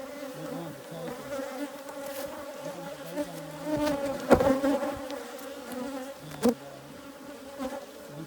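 Africanized hybrid honeybees swarming around an opened hive, a dense close buzzing drone with individual bees zipping past the microphone now and then.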